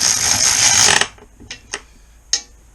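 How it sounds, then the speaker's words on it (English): Ratchet snugging up bolts on the sump of a 1988 Kawasaki ZX10B during a ZZR1100 sump conversion: a loud burst of rapid clicking, then three short separate ratchet clicks, close and with no voices. "ratchet and start snugging these up. A little bit at a time on each one"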